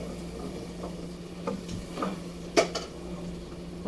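A spoon stirs gumbo roux in a pot and scrapes bits off the bottom, giving soft scraping and a few light metallic clinks and taps close by, with no talk.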